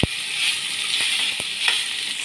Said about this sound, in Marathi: हे पण याच्यामध्ये आपण टाकून फ्राय करून घेणार आहोत तेलामध्ये एकत्र